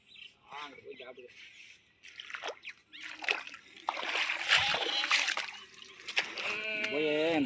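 Water gushes and splashes into a rural irrigation channel, sloshing unevenly close by, with birds calling and people talking at moments over the flow.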